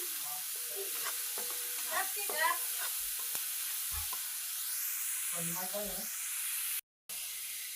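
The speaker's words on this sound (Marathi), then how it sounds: "ग्रेव्ही अशी छान परतून घ्यायची ग्रेव्हीला तेल सुटलं पाहिजे" Gravy for stuffed okra fries and gets stirred in oil, a close, continuous hiss and sizzle with scraping stirs, while a voice talks briefly over it in places.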